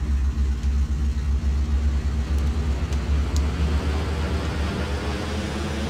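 A tail-dragger plane's engine held at full throttle for takeoff in Flight Simulator X, a steady, loud, low droning roar with a rough rumble that continues unbroken throughout.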